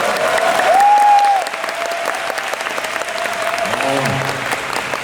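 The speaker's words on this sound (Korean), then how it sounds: "여러분 좋으면 박수 한 번씩 쳐야 되는 거 아니에요?" A festival crowd at the Black Desert FESTA 2023 Calpheon banquet applauds in a loud, continuous wash of clapping, with a brief whistle-like tone and a voice rising over it.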